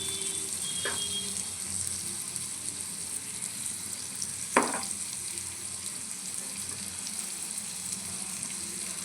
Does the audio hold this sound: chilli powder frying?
yes